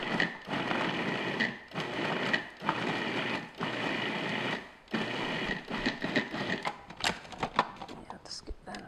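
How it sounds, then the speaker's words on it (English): A food processor pulses butter into flour for pie crust in a run of short whirring bursts separated by brief gaps, loud and close, giving way to quicker irregular rattles and clicks near the end. "just pulse it or cut the butter into the flour just until it's in little small pieces like coarse crumbs."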